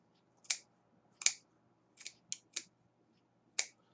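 Scissors snipping through fabric while cutting out a no-sew face mask, six short crisp snips spaced unevenly, close and fairly quiet with near silence between cuts.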